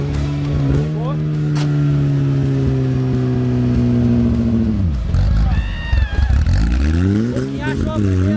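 A Volkswagen Fusca (Beetle) engine running just after starting, holding a steady idle hum, then dipping and revving up and down, loud and close, with people talking over it.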